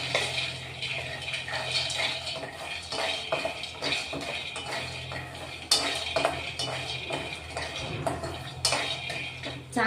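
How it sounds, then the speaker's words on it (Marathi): A cupful of peanuts dry-roasts in a pan, giving a steady close rattle of light ticks and scrapes as they are stirred. A low constant hum runs underneath the whole time. "शेंगदाणे चांगले भाजून घेऊ आपण आता"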